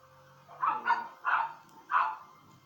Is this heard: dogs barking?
yes